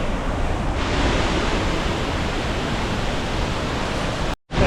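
Gitgit Twin Waterfall in Bali roars as a dense, continuous wash of falling water, loud and steady throughout, cutting out abruptly near the end.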